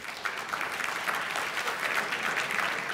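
Audience at a JavaScript developer conference applauding, a steady, full burst of clapping from many hands that holds throughout at moderate volume.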